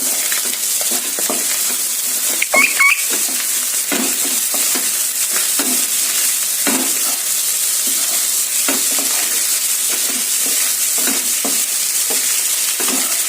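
Egg fried rice with a spoon of ghee being stirred in a hot pan, with a steady sizzle and repeated scraping and stirring strokes running through the whole stretch at close range, with no talking.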